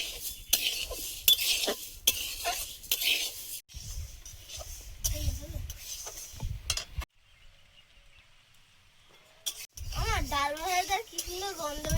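Dal being dry-fried and stirred in a wok (kadai), metal utensil scraping and clinking against the pan in bursts, with people talking nearby and a quiet pause in the middle.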